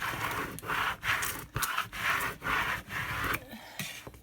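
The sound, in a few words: squeegee rubbing glitter vinyl design on transfer tape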